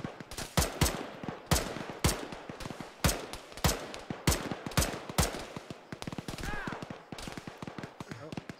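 Rapid bursts of video game gunfire crack out in a steady rhythm of single and clustered shots, loud and dense throughout, while players talk over the shooting.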